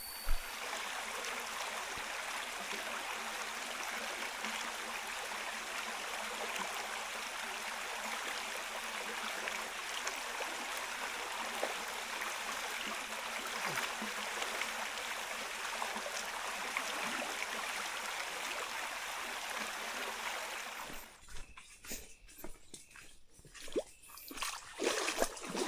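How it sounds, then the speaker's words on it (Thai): Steady rushing flow of a fierce river near rice fields, broadband and continuous for about twenty seconds, then broken by louder irregular splashes and handling noise near the end. "มาฮอดแม่น้ำสายโหดแล้วบัดนี้"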